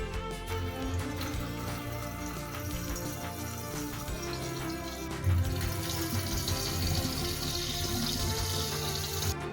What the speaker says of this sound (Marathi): आता हलक्या हाताने यातलं आपण पाणी काढून घेऊ